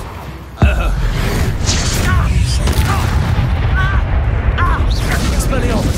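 Confringo blasting spell explosion in the Hogwarts Legacy video game, a sudden loud boom near the start followed by a rumbling, crackling aftermath with scattered magical chimes and whooshes, under ongoing game effects.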